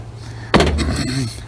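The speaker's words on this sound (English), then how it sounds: "don't close your door when you got that out. It rattles like hell." A Chevy Silverado truck door swings shut with a single sharp slam and a buzzing rattle after it, because the window sweep has been removed, heard up close in a quiet garage.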